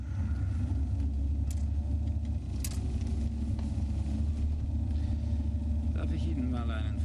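Steady low rumble of a car driving along, the engine drone continuous and fairly loud throughout, with people talking inside over it.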